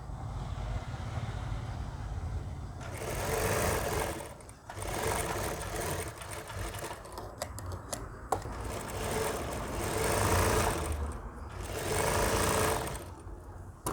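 A sewing machine stitches a seam in delicate fabric on a ladies' shirt with a covered placket, running in several loud, steady bursts separated by short pauses.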